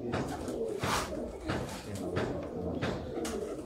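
A female Sialkoti pigeon coos nearby in repeated low, throaty calls that come in soft pulses over faint background noise.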